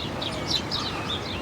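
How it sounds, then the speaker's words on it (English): Birds chirp and call repeatedly in a protected wildlife habitat for birds near Córdoba, a busy chorus of high tweets layered over a steady outdoor background, with no voices. "And all that chirping I hope you can hear"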